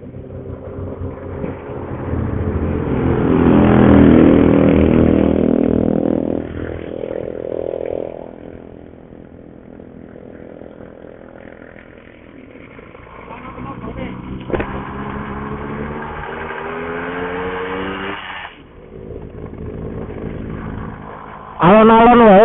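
Motorcycle engine sputtering and revving unevenly, its carburetor flooded with water, close and loud, with people talking over parts of it.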